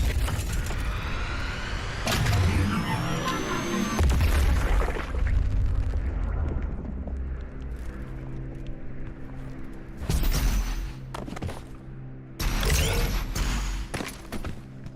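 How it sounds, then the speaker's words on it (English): A demon's shoulder cannon fires in DOOM Eternal, several loud broadband booming blasts spaced across a rumbling game soundscape with no talking. "Now we power up this thing's shoulder cannon."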